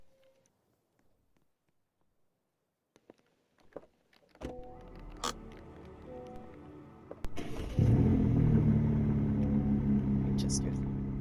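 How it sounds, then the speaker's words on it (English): A BMW i4 car in the Roblox game Greenville starts up and drives, its steady hum and rumble rising after quiet moments with a few clicks, then continuing loud and sustained to the end. "I'm gonna get my BMW i4."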